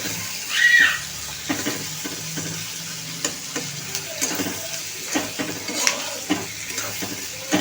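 Onions and five green chillies being sautéed in a pan for methi matar malai gravy, a close steady sizzle broken by repeated spatula scrapes and metallic taps against the pan, no voices.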